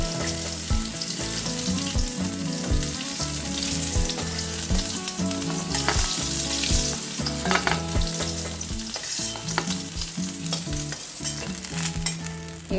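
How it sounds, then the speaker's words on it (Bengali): Chicken 65 pieces frying slowly in oil, with a dense continuous sizzle and bubbling under rhythmic stirring and scraping in the pan, steady and close. "এইভাবে সবকটা আমি আস্তে আস্তে, একটু স্লো কুক করতে হবে, আস্তে আস্তে আমি সবকটা এইভাবে ভেজে নেব"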